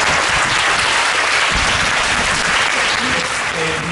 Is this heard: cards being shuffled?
no